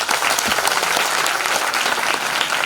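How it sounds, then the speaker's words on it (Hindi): Applause from an audience at a Shrimad Bhagavat Katha religious discourse, loud and sustained, with a dense crowd clapping steadily throughout and no speech over it. "बजाओ ताली।"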